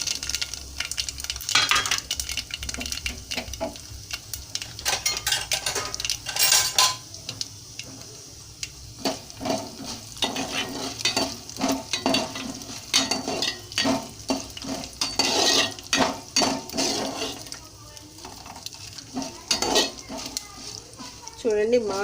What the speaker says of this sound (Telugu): ఇప్పుడు వేరుశనగ గుళ్ళు, పెసరపప్పు, మినప్పప్పు వేస్తున్నాను.